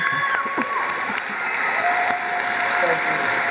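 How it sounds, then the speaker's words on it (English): Conference audience applauding at a Bitcoin 2019 event, a steady dense wash of clapping that holds for the whole stretch, with faint voices underneath. "can we give a huge round of applause for a freedom fighter?"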